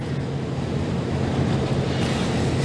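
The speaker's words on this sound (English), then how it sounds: "very windy, a lot of debris, really making it difficult to listen" Strong wind blowing outdoors at an evacuation center during extreme California winds, a loud, constant roar and rumble buffeting the microphone throughout, with no voices.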